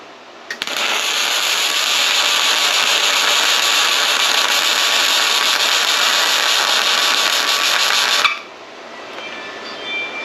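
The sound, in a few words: Sefaspe 205A MIG welder welding practice on metal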